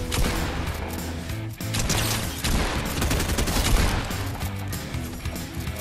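Airstrike explosions and rapid gunfire in the video game Fortnite, a dense, loud, continuous barrage of blasts and shots with no clear gaps, heard alone.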